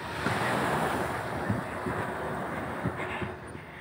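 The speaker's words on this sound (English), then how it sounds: "Now we're going to enter in Amistra Beach." Surf rolls and washes steadily at Amistra Beach in Spain, with wind buffeting the microphone and a yacht somewhere offshore. No one talks.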